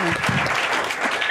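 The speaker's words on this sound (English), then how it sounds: "Give him a round of applause" Dense, continuous clapping from a hackathon audience fills the whole moment, a steady wash of applause that stays loud throughout.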